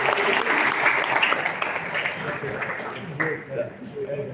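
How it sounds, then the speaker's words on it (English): Audience applause at a college orientation in Delhi, dense clapping filling the room and tapering slightly near the end, with some murmured voices and light laughter underneath. "A big round of applause for our Director General"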